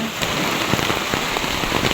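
Dense, steady rain pattering on a surface, with scattered sharper drops and no voices.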